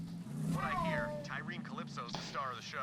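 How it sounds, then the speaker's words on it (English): A house cat meows in a room, several short mews in a row heard under a voice speaking from a game. "I don't know if you heard that, but that's the cat in the display picture"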